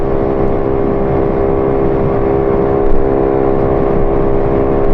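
A Honda Ruckus 49cc scooter drones along a road with a steady, buzzing small-engine hum and strong harmonic whine, loud and close, holding an even pitch with a slight surge near the middle.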